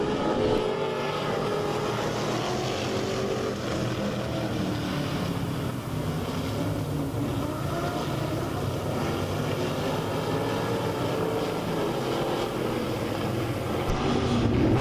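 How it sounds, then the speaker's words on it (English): Dirt track race cars at Lake Ozark Speedway roar steadily together off turn four toward the green flag, a dense, continuous engine drone with no talk over it. "We are set to go racing this time down in turn number 4, 15 laps the distance."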